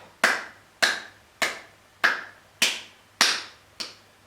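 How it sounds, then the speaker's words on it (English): Seven sharp, evenly spaced hand claps ring out one after another in a yoga class, close and crisp with short decays and no talking between them. "clap."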